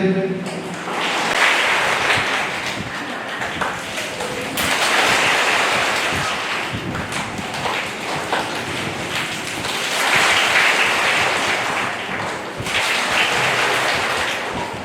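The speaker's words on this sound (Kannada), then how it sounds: "ಆ ರೀತಿಯಾಗಿ ನೀವು ಚಪ್ಪಾಳೆ ತಟ್ಟುತ್ತೀರಿ" Schoolchildren clap together in rhythm at a school entrance-day cultural programme, with loud, dense clapping in repeated bursts of a few seconds each. Voices are mixed in with the clapping.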